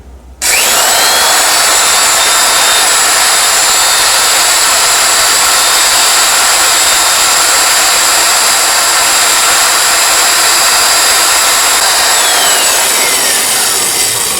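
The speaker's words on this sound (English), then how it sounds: "Don't use your mag drill like that." A loud, steady magnetic drill whine runs nearly continuously through steel, grinding and high-pitched, then winds down near the end; no talking.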